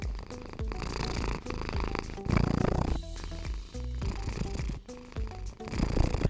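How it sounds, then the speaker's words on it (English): A domestic cat purrs in a continuous rattling rhythm, layered under other tonal sounds that rise and fall in loudness throughout. "Purring sounds like a continuous repeating rattling."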